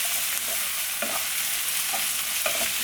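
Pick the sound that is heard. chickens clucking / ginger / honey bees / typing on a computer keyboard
ginger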